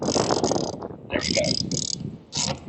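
A lag bolt being ratcheted into a building wall to fix an outdoor helium antenna bracket, with close mechanical clicking and grinding in bursts while someone speaks briefly.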